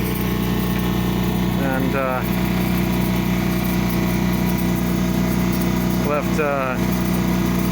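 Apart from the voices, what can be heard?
sailboat motoring under engine power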